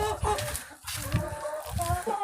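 Hens clucking close by in a busy, overlapping chorus after being herded back inside in cold, frosty weather, with scattered low scuffling and rustling beneath the calls.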